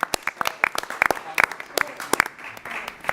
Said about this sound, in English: I just want to get a round of applause for everybody that helps out here